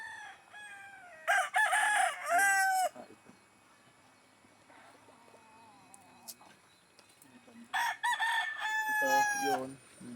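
Farmyard chickens, including a group of white siblings, with a rooster crowing loudly twice, near the start and again near the end, and softer clucking and calls in between.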